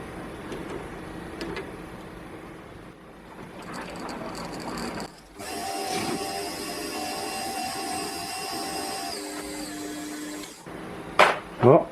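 Metal lathe facing off a small model steam engine piston, a steady whirring cut with a faint tonal whine lasting several seconds after quieter handling noises, ending with a couple of sharp knocks.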